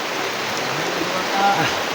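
Heavy rain pours in a steady, dense hiss near a well, loud and unbroken for the whole stretch.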